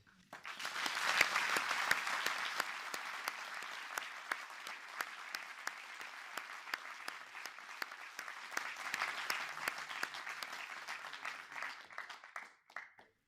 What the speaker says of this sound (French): Et j'aimerais bien que vous les applaudissiez.